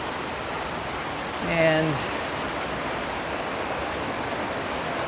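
Creek water rushes steadily at Canada Creek Falls in Suches, Georgia, a constant broadband wash with no letup, while a voice briefly speaks over it.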